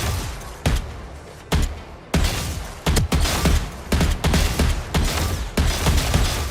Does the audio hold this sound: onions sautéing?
no